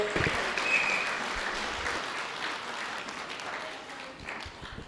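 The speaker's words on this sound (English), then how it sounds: "Let's give them a round of applause, ladies and gentlemen." Wedding reception guests applaud the bride and groom with a steady, dense wash of clapping at moderate volume that fades slightly toward the end.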